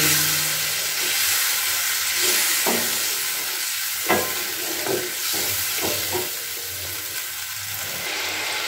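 Water poured into a well-cooked spice masala in a pan while cooking a cauliflower and egg dish, producing a loud steady hissing sizzle and steam with a few sharp utensil knocks and stirring scrapes, no speech.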